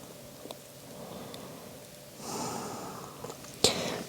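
Slow deep breathing at the close of a yin yoga practice for the hips, with a soft inhale and exhale rising quietly, then a sharper audible breath at the end.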